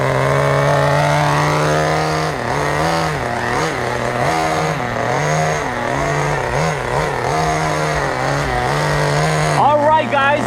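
A vintage Thunder Tiger TS-4n nitro RC touring car runs with a cold engine, giving a loud, buzzy, high-pitched whine that rises and falls repeatedly as it is throttled up and down.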